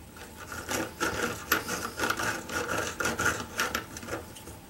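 A toothbrush scrubs silver ingots in a nitric-acid-based cleaning solution, making rapid, rhythmic bristly rasping strokes, close and moderately loud, with no talking.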